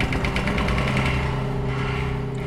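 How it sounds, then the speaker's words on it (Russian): A tractor engine in the Tiny Bunny video game rumbles steadily and loudly for the whole stretch, a continuous close mechanical drone with no voices over it. "увидел лишь грохочущий трактор, который уползал откуда-то из поворота"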